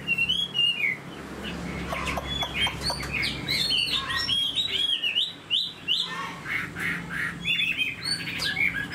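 A Chinese hwamei (họa mi) songbird sings loudly and close by, a continuous stream of rich, varied whistles, warbles and sharp squawky notes across the whole stretch.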